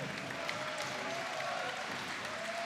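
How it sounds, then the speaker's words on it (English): Audience applause for two boxers after a women's boxing match, a steady wash of clapping from a crowd with faint voices mixed in. "a big applause for these two athletes, Rostem Akman and Jamil Chan"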